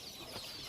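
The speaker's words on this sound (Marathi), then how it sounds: "इथे आपण कोंबड्या बसवतो." Country desi hens in a poultry shed on a free-range farm give soft, steady clucking that runs continuously through a brief moment at close range.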